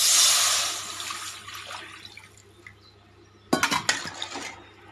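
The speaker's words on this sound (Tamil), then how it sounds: "நம்ம கரைச்சி வச்ச புளியை எடுத்து ஊற்றிக்கலாங்க." Tamarind water pours and splashes into a pot, loud at first then tapering, followed by a few close clanks and knocks of a utensil against metal.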